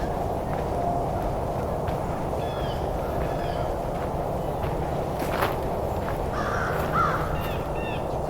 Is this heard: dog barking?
no